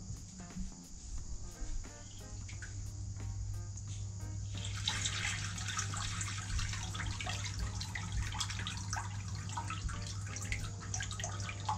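A pump switches on to fill a soft coral wall aquarium tank and its sump. A low steady hum and faint chirping give way midway to a bright, continuous rush of flowing water.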